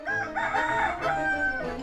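A rooster crows loudly and close by, one long drawn-out call with a rising and falling tone that fills the whole moment.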